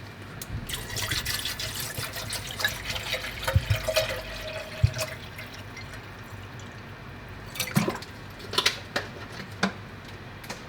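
Water runs and drips into a kettle being filled to boil for pour-over coffee, a faint, uneven splashing with occasional louder spatters and no talking.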